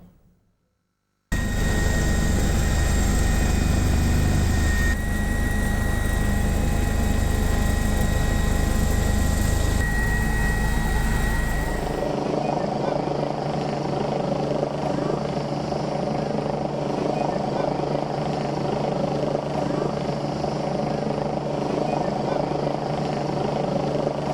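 A police rescue helicopter's loud, continuous rotor and engine roar dominates throughout, steady and close, with a shift in tone partway through as it keeps running.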